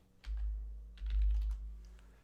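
Soft keyboard typing as a command is entered into a chat, two short clusters of quiet key clicks over a low background hum.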